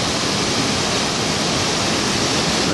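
Water pours and rushes into the cast iron turbine pit of a grist mill, a dense, loud, steady roar that stays constant throughout with no talking.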